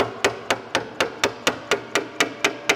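A hammer strikes a screwdriver used as a punch on a Vespa ET4 scooter engine bolt, about a dozen sharp, evenly spaced metallic blows in a quick, steady rhythm, loud and close.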